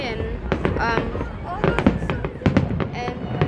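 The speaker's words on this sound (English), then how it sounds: "how great were these fireworks at the Tempe, Arizona fireworks?" Fireworks over Tempe Town Lake in Tempe, Arizona on the Fourth of July crack and pop in a rapid string of sharp bursts, with a crowd cheering and people talking throughout.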